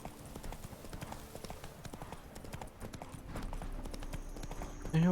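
Hooves of a horse named Clip Clop trot steadily through a video game, a quick rhythmic clip-clop running throughout at close range, growing slightly louder toward the end with a brief burst at the finish.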